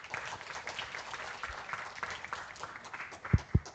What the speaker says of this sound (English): Let us give them another warm round of applause